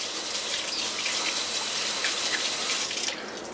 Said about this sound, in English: I'm just gonna wash them off with water.